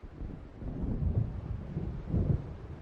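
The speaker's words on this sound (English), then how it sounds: "It seems there's a storm coming." Thunder from an approaching storm over the sea in the game Alan Wake Remastered, low distant rumbles rolling in two swells over a steady windy background.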